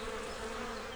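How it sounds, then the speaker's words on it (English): Cartoon bees buzzing around Thomas the Tank Engine, a steady, dense insect drone that holds loud and unbroken for the whole second with no talk over it. "But the bees weren't listening to Thomas. They were too busy buzzing."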